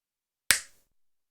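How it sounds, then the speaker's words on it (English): A single sharp hand clap rings out close and alone in a quiet room, then decays quickly. "Give me a clap"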